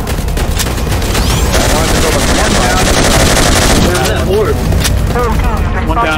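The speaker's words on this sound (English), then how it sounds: "Being shot at, being shot at." Rapid, dense gunfire from a squad firefight in Garry's Mod HL2RP, loud and continuous with machine-gun bursts and booms, while players talk over the shooting.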